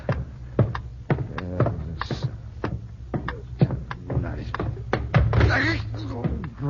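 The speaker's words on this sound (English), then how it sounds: "you were awakened by a pounding at the door." A heavy pounding knock on a door, a sound effect in an old-time radio drama, comes as a series of sharp, loud thuds in irregular bursts. Actors speak between and over the knocks.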